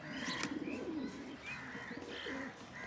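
Pigeons coo softly on a rooftop, low repeated calls over faint chirps in a quiet outdoor setting.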